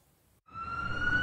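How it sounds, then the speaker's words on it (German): After a brief near-silence, a siren starts up with a steady, piercing wail that grows slightly louder. "Das war die Sirene, Sir."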